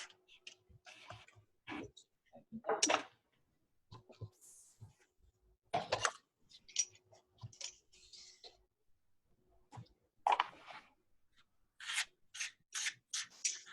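Scissors snip paper for notebook artwork in short, crisp, intermittent cuts, close by in a quiet room with scattered rustling between them.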